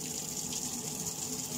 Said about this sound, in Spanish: espero a que empiece a cargar mi lavadora. Como ven, ya se está llenando.